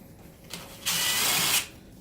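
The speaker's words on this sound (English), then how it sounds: "I'm going to use the drill just to speed up the process." A power drill whirs in a short burst of under a second, removing a cover screw from a dip box, preceded by a faint click, in an otherwise quiet room.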